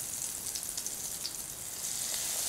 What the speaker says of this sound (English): Put in the cutlets one by one